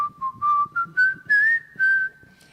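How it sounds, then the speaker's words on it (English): A person whistles a melody alone, a clear close tune of sustained notes and short phrases with small pauses between them. "Today was a whistle day, so we got lucky."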